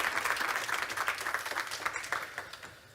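A conference audience at a panel on the energy transition claps as panelists walk onto the stage, a faint, steady patter of many hands that lasts the whole moment.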